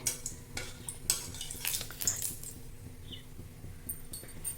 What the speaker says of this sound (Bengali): এরপর তেজপাতা, গোটা গরম মশলা দিয়ে দিলাম। একবার নাড়াচাড়া করে নেব।